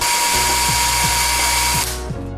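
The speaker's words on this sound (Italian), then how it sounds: "dobbiamo procedere a realizzare un nuovo foro" A power drill boring a new hole through the lower part of an e-bike frame, a loud, steady high whine close up with rhythmic dips as the bit bites, then winding down at the end.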